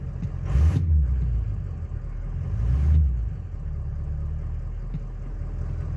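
A Ford 6.0 Powerstroke diesel engine with a blue spring kit fitted, idling steadily with a low rumble and a couple of brief swells, heard from close by with no talking.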